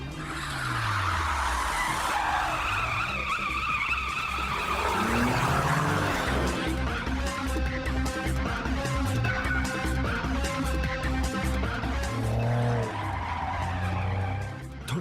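A car driven hard with tires skidding and squealing, the engine revving loudly and continuously, in a scene where a man drives blindfolded.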